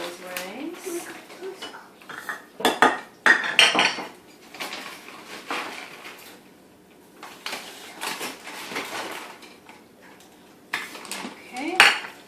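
Dry Minnesota wild rice, brown rice and Calrose rice are poured into a metal pot in a kitchen in several separate bursts of rattling grains, with clinks of utensils and a person talking in between.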